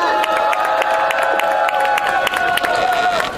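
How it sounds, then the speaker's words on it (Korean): A crowd of university students at an outdoor rally applauds and cheers, with scattered whoops and shouts rising over steady clapping. "큰 박수로 함께 오시겠습니다"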